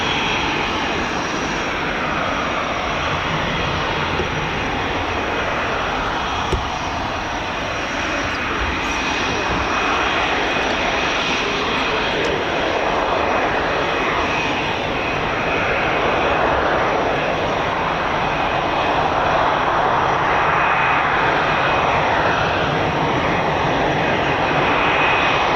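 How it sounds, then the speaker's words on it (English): Aircraft engines roaring steadily during arrivals at the Royal International Air Tattoo at RAF Fairford, a loud sustained drone that swells gradually, heard from the ground without talk. "Yes, I love this aircraft, it's good."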